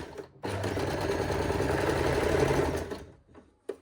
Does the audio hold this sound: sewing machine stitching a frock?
yes